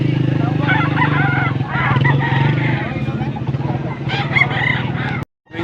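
Roosters crow repeatedly at a busy Pampanga chicken market, loud and close, with clucking fowl and a passing motorcycle amid chatter, ending in a brief silence.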